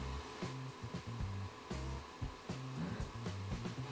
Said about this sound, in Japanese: するとリフトが降りてきて造形スタートやね